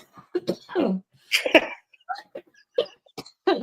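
A few short, throaty coughs close to the microphone, mixed with some throat clearing and brief vocal noises.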